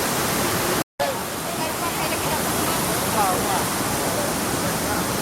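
A waterfall at Cachoeira dos Pretos in Joanópolis roars as a steady, dense wash of falling water seen from the top, loud and continuous with one brief dropout.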